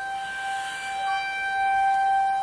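Outdoor civil defense tornado siren sounding during a test in Calumet City, a steady wailing tone heard from a few blocks away near a mall, slowly swelling in loudness.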